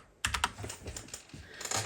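Crisp, rapid keystrokes on a Royal Kludge RK98 mechanical keyboard, a quick burst of clacks followed by steadier typing with a higher-set spacebar, close and clear with no talking.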